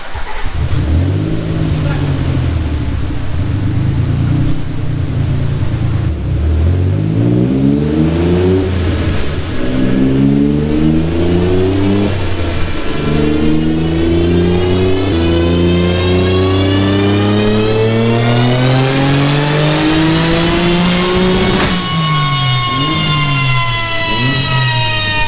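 Highly modified Nissan 300ZX making over 900 wheel horsepower, revving hard on a dyno with boost cut, loud and close, engine pitch climbing repeatedly then dropping sharply as power cuts out in several sweeps.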